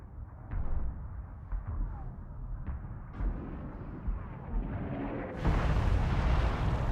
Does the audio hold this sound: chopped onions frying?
no